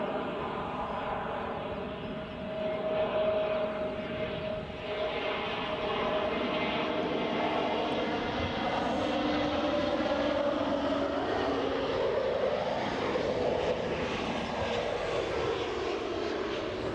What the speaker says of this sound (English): Quite a nice gentle landing.